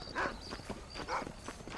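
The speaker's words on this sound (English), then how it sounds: "Wait, is that my horse?" Horse hooves clip-clop at a walking pace in the Western video game Red Dead Redemption, two bursts of steady footfalls over a low ambient bed, fairly near and moderately loud.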